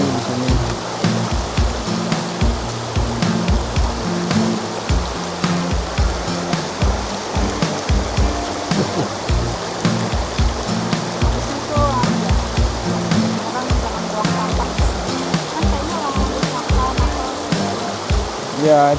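A clear river stream flows steadily nearby, a continuous rushing wash of water at an evening campsite, with voices talking over it.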